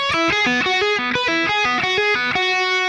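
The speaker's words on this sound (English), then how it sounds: "the lead guitar kicks in with that intro riff again" Distorted electric guitar plays the quick melodic intro riff of a song, clipped, repeated notes in a steady rhythm, loud and up front with no voices.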